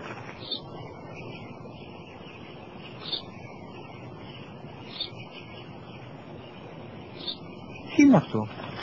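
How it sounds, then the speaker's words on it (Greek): Sparse, faint high sparrow chirps every couple of seconds against a quiet background, with a brief louder sound near the end. "Ένα σπουργίτη."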